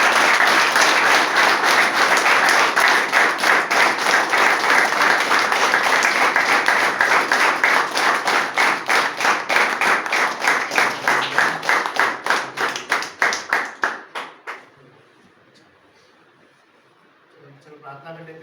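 Sustained audience applause at a rehab centre celebration in Dehradun marking five years of sobriety, loud and dense, breaking into distinct claps that thin out and fade before a short quiet stretch and a low murmur at the end.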